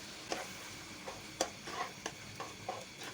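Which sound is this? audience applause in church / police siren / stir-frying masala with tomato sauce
stir-frying masala with tomato sauce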